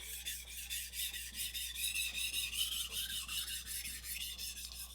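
Japanese kitchen knife drawn lightly back and forth from tip to heel on a sharpening stone, a quiet rhythmic rasping scrape repeating about every quarter second, close and soft.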